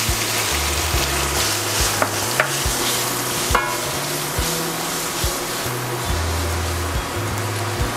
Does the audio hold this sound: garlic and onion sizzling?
yes